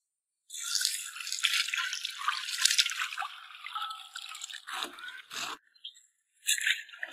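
Cauliflower and red and green chili peppers are rinsed in water, with close splashing, dripping and rustling that swell and pause in several bursts.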